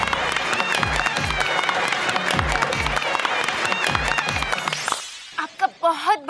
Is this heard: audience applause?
yes